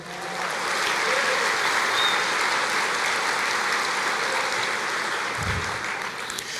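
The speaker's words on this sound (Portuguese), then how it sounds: "Você pode aplaudir o Senhor?" A church congregation applauds, a dense, steady wash of clapping that holds evenly for several seconds.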